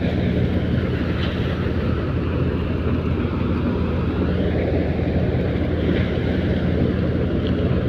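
Steady loud mechanical roar of a Sonalika tractor-driven wheat thresher running continuously, a dense rumbling drone with no pauses.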